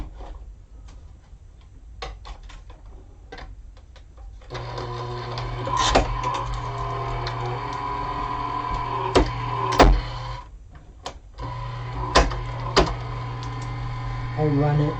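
Die-cutting machine feeding card stock and a window sheet through its rollers: a steady mechanical hum with repeated clicks and ticks as the plate passes, close and moderately loud, with brief pauses between runs.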